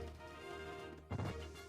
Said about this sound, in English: Let's see how big this explosion is.